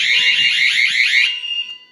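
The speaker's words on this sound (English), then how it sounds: "You can actually silence this horn either from the panel or from the annunciator." A fire alarm panel's trouble horn blares a loud, piercing, rapidly warbling electronic tone close by for over a second, then cuts off and fades into quiet.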